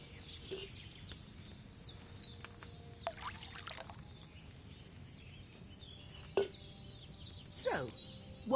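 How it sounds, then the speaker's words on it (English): Wine poured from a pitcher into a cauldron in Kingdom Come: Deliverance II, a quiet steady trickling stream with bird chirps in the background and a few sharper knocks and clunks near the end. "So, what did you pour in there? Wine, of course."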